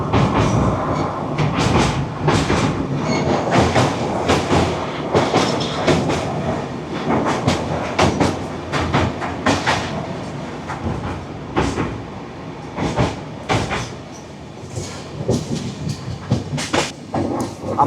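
The Puri–Howrah Shatabdi Express runs nonstop toward Kharagpur, heard from a coach near the engine: a steady loud rumble with repeated clattering wheel knocks over the rails throughout, with no voices.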